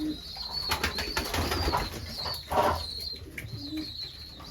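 Pigeons cooing inside a pigeon loft, soft repeated low coos and rustling wings close by, with thin high chirps and light shuffling through the background.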